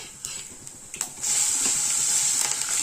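Cumin seeds and asafoetida tempering in hot oil in a pan for idli, a brief stir and clatter first, then a loud, steady sizzle that rises abruptly and holds close up.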